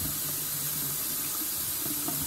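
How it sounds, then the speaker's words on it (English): Lukewarm tap water runs steadily into a sink while a wig is rinsed, a continuous close hiss with no talking. "and I'm doing it just with some lukewarm water"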